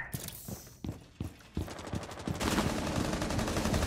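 Gunfire in the Rainbow Six Siege video game: a quick series of sharp shots, then a sustained burst of rapid automatic fire, loud and close.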